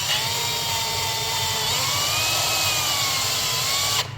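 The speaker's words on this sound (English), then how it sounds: "then you get the drill" A power drill spinning an engine valve whirs steadily at close range, its pitch shifting slightly as it spins, then cuts off abruptly at the end.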